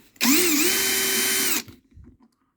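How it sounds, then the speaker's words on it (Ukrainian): A power driver spins out a bolt from the cover of an Einhell TE-HP 170 pressure washer, one close, loud whine of just over a second that ends abruptly, followed by brief faint handling noise. "відкручуємо тут болт шуруп, цю кришечку"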